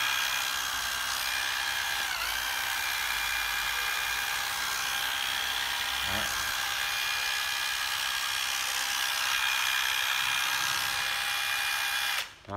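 A Japanese-made cordless drill runs steadily and smoothly, with a close, even whine holding from start to finish before cutting off sharply at the very end; no one speaks.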